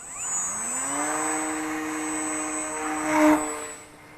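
A Volantex P51D Mustang Red Tail RC plane launches at 60% throttle, its electric motor and prop giving a steady rising whine with a strong harmonic tone, close by and alone, swelling briefly near the end.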